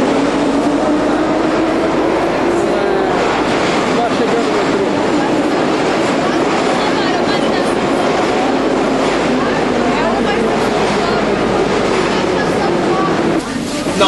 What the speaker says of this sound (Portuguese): Estamos no trem fantasma agora.